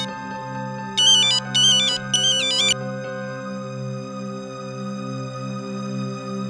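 A telephone ringtone chirps in three quick bursts over a steady low musical drone, sounding once about a second in and stopping before the three-second mark.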